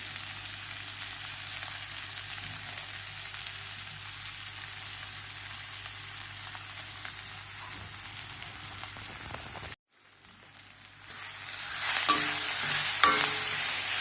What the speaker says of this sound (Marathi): ह्या बिया शिजलेल्या आहेत, तरी पण ह्याच्यावरच भाजूया.